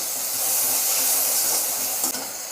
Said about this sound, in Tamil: நல்லா இதிலே வதங்கட்டுங்க.